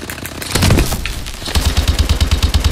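Sustained LMG fire in Call of Duty Advanced Warfare Exo Survival, a loud, fast, steady stream of close shots, preceded by a brief blast and clatter.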